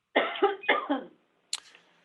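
Close, loud coughing on an online conference call: a quick burst of several coughs, then a short pause and one more brief cough.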